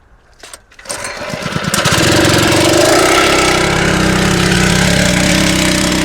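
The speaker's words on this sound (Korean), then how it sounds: "일단 길을 한번 시동을 한번 걸어보고요" An engine-driven flexible pump with its hose set in water is started: a couple of pulls, then the small engine catches and settles into a loud, steady, close running drone.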